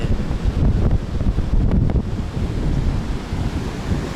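Waves breaking on Karachi's Sea View beach in the early morning, a steady roar of surf with wind noise buffeting the microphone throughout.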